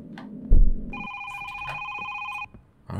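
A telephone in a horror video game rings once with a steady electronic trill lasting about a second and a half, loud and close, after a thud, with faint background noise around it.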